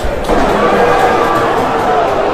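Large football crowd of about 8,847 fans at Kassam Stadium during Oxford United against Charlton, a steady dense roar of voices filling the whole stretch with no single standout call.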